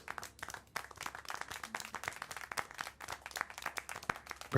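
Crowd applause and clapping in the video game Syberia: The World Before, a dense, steady patter of many hands sustained throughout, with faint speech underneath.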